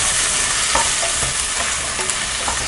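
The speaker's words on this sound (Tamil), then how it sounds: "வெங்காயம் நல்லா வதக்கிக்கலாம்" Onions sautéing in oil for chicken gravy, a bright steady sizzle broken by a few spatula scrapes and taps against the pan, close and loud, with no voices.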